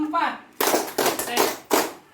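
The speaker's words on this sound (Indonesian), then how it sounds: "Kalau saya sebutkan tepuk tangan baru bertepuk tangan" A group claps in unison on a spoken cue, producing several sharp, separate bursts of hand claps in quick succession, with a brief voice just before the first.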